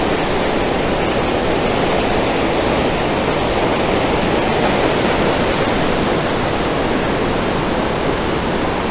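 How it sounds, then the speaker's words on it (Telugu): Water pours out through six open gates at Pinnapuram Dam, a loud, constant roaring rush that fills the whole stretch with no pause or voices. "ఈ సైడ్ అవుట్ ఫ్లో అయ్యేది, డ్యామ్ నుంచి అవుట్ ఫ్లో అయ్యేది"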